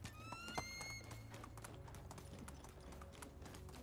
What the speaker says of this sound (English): Let us ride the donkey donkey.